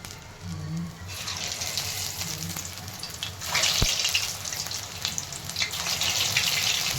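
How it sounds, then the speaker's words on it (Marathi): Sliced banana chips drop into hot oil and fry with a bright, steady sizzle that swells into louder bursts of crackling, close up and alone with no voices. "तेल छान गरम झालेलं आहे आता त्यामध्ये हे वेपर्स मी टाकून घेत आहे"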